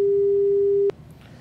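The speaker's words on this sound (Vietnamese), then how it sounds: "Sorry chị Mai, điện thoại của chị đã bị cúp rồi" Steady electronic busy tone from a telephone line after a call is cut off, one long continuous beep close and loud that stops abruptly, followed by faint room noise.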